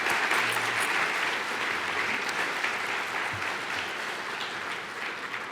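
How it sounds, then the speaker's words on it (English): An audience at a university diversity forum applauds, a dense sustained wash of many hands clapping that tapers slightly toward the end. "Give her one more round of applause."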